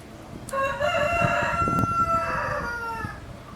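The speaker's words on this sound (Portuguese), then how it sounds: "E o galo tá apaixonado." A rooster crows once nearby, a long drawn-out call that rises and then trails off, with faint background clutter.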